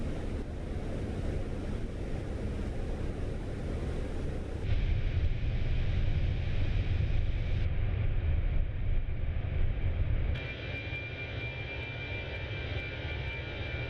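Steady, loud airliner engine roar in Microsoft Flight Simulator 2024 with a Fenix airliner, a continuous broadband rumble with a faint high whine that shifts in level and tone a few times, no talk over it.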